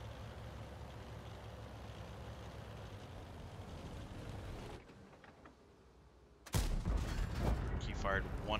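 A single tank cannon shot in World of Tanks, a loud sudden blast near the end breaking a brief quiet after steady engine rumble.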